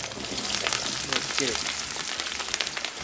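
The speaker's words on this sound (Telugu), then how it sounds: "ఆయిల్ మస్తు గరం అయింది. ఇప్పుడు 4 ఉల్లిగడ్డలు 10 పచ్చిమిర్చి వేసుకోవాలి." Onions and green chilies dropped into very hot oil, sizzling and crackling steadily with a bright spattering hiss, close and continuous, with people talking faintly over it.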